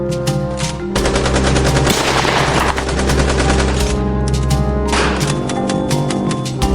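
Heavy, continuous gunfire fills a battle: rapid bursts of rifle and machine-gun shots crackle loud and close in dense, overlapping volleys with no pauses.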